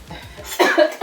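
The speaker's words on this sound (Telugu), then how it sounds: "దగ్గు చంపేస్తుంది" A person coughing several times in a short burst, close and fairly loud, with a hoarse throaty quality.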